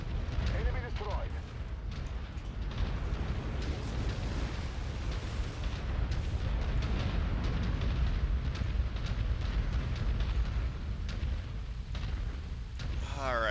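A mech is blown apart in a video game, a long dense roar of explosion and gunfire that stays loud throughout, with a voice speaking over it.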